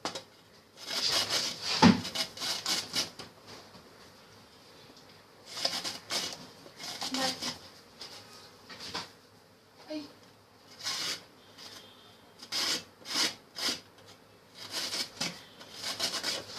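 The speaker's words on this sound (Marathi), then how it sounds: "गाजर हे न कापता मी किसणीवर किसलेलं आहे असं" A carrot rubbed against a kitchen grater for a Maharashtrian mixed vegetable koshimbir, with repeated raspy scraping strokes in uneven bursts separated by short pauses, close and fairly clear.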